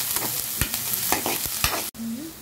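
Street-style chicken fried rice stir-fries on high flame, a loud dense sizzle with repeated spatula scrapes and tosses against the pan, and a brief dropout near the end.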